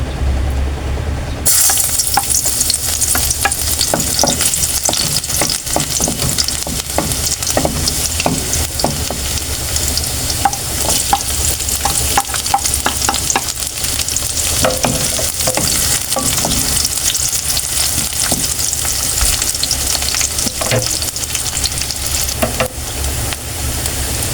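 Stir-frying in hot oil while cooking sautéed water spinach with smoked fish and pork cracklings: a loud, constant sizzle with frequent scraping and stirring knocks from the pan, close up and without talk.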